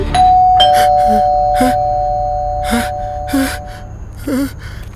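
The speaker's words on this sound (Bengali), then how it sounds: "কলিং বেলটা বাজালো কি?" A doorbell rings with a sustained electronic chime in a Bengali suspense drama, loud and close, followed by short gasping breaths and sighs.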